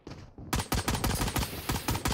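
Rapid gunfire from a first-person shooter match in Valorant, loud and close, with a quick string of evenly spaced shots after a brief quieter opening.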